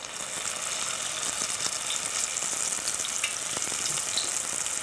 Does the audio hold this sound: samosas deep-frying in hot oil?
yes